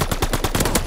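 Rapid automatic gunfire from the shooter Call of Duty: Vanguard, a loud, close burst of about eight evenly spaced shots packed into under a second, with no talk.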